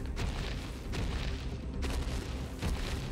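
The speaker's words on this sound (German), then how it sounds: "Ui, jetzt höre ich es auch stampfen." Heavy, low booming thuds of a large creature stomping in a video game, a few deep impacts spaced unevenly over a rumbling background, fairly muffled with no talk.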